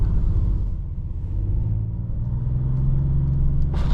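A 2026 Dodge Charger Sixpack, a 550 hp all-wheel-drive muscle car, drives over a small snowbank on a snowy road with a steady low engine rumble and road noise inside the cabin, plus a brief thump near the end.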